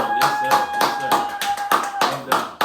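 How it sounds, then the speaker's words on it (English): A small studio audience claps for a high school coach in rhythmic, slightly uneven bursts of roughly eight strokes, close and fairly loud, with speech partly mixed in. "Little Rock Southwest High School coach Ramona McGee. Give her a round of applause."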